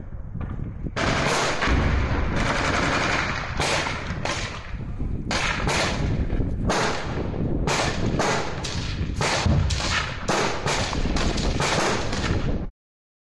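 Heavy weapons fire in urban combat, a dense barrage of loud, sharp gunshots and blasts in rapid irregular bursts, close and continuous until an abrupt cut to silence.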